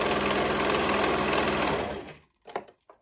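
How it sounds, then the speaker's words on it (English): A serger sews around the raw edge of a fabric headband in a steady, loud, close whir. The stitching runs continuously for about two seconds, then stops, leaving a few faint handling noises. "Here I am at my serger, and to sew around that raw edge"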